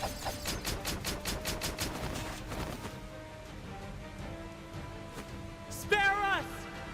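Firing squad volley of gunfire in the video game Octopath Traveler, a burst of rapid repeated shots at the start over orchestral music, with voices speaking around it.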